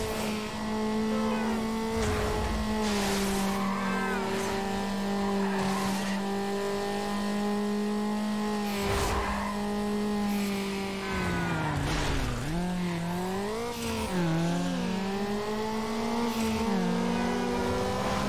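Race cars in Need for Speed Underground on Xbox roar continuously, with engines revving and shifting pitch and tires squealing through turns, loud and close throughout.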